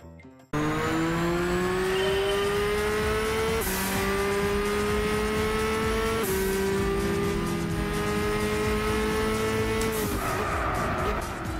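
A race car in Gran Turismo 6 on the Indianapolis Road Course howls at high revs with a loud, steady engine tone that steps through a few gear changes, while tires squeal throughout.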